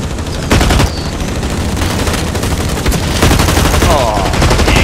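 A tactical SMG fires sustained bursts in Blacklight Retribution, loud and rapid, with short pauses between the volleys.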